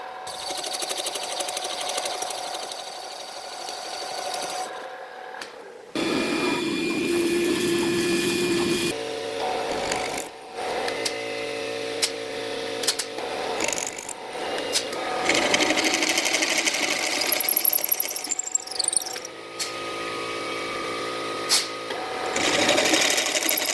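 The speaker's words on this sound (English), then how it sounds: "Now we're going to bring in our valve seal cutter. So we're going to cut these down to a 530 valve seal." A valve seal cutter machines the valve guides on double hump small-block Chevy cylinder heads down for 530 valve seals, making a loud whirring, sewing-machine-like buzz in several bursts with short pauses and shifts in pitch.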